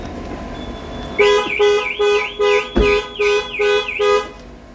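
A Land Rover Evoque's lock alarm sounds a run of about seven loud, evenly spaced electronic chirps, close by, after a brief quiet lead-in.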